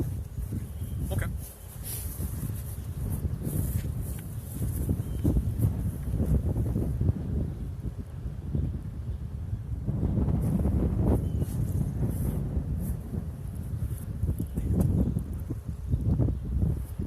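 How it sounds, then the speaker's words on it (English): Constant low buffeting wind rumbling against a microphone outdoors in Conrad, Iowa, gusting unevenly throughout with no clear voices. "It's a little windy today, so if you have any trouble hearing us, let us know."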